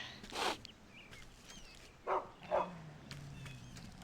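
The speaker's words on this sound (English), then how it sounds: "I think that's a dog." A dog in the 1999 computer game Ultima 9 gives three short, separate barks spread across a few seconds, moderately faint over a quiet background with no talk.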